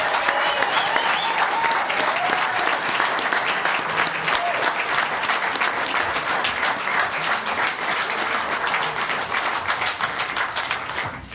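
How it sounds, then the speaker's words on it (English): A crowd at a town council meeting claps for honored scholars, a dense, sustained round of applause that carries on steadily for about eleven seconds before easing slightly at the end. "Can we have one more round of applause for all these scholars?"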